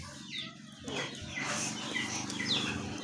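Chickens clucking and squawking nearby, with several bird calls over a steady background rumble, continuing for a few seconds without pause.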